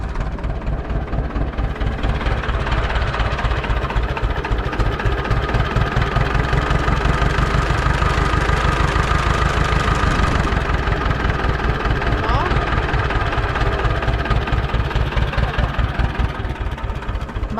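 An Ursus tractor engine idles steadily for a long stretch, with a deep, rhythmic chugging and knocking that stays loud and close throughout.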